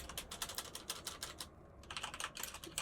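Rapid typing on a computer keyboard during a session of EVE Online, with dense close key clatter and one brief pause before the keystrokes resume, no speech.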